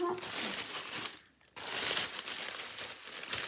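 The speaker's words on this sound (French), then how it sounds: "il est dans un sachet plastique. Alors, on va l'ouvrir." A plastic bag around a new skateboard crinkles and rustles up close as it is pulled open, with a short pause midway before the rustling resumes.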